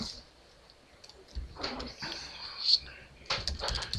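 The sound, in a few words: typing on a computer keyboard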